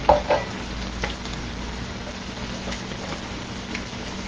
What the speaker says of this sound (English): I already cut my onions. I'm going to add a little bit in here.